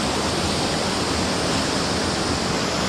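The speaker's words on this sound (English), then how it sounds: "Water's pushing everywhere." A strong river current churns around a swimmer's GoPro near an unnamed waterfall, a steady, loud, broadband rush of water, constant and close with no voices.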